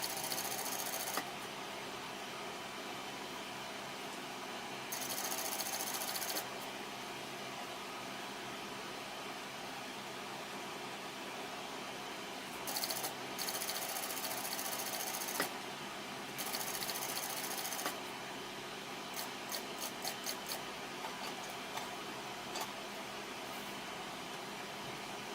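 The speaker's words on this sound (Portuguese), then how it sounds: "Ajeito aqui e continuo a minha costura" A sewing machine stitches Christmas napkins in steady whirring bursts that start and stop through the recording, with short pauses between runs and no talking.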